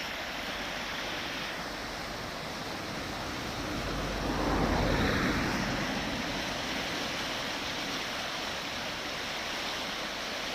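The Çoruh River flows around a bend near Yusufeli, a steady broadband rush of water that swells louder midway and then settles, with no voices.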